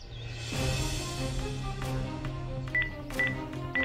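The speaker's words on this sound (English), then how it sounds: "Just pick up the mobile" A mobile phone dials a number, sounding a short series of bright keypad tones over a low background hum in a toy firefighter scene.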